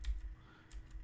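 Quick keystrokes tap on a computer keyboard, a few close, light clicks in a short burst in a quiet room.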